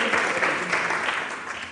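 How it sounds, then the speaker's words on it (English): Audience applause for a presenter at a university workshop, a brief dense wash of clapping from a seated crowd, steady and moderately loud. "Okay, applause please for"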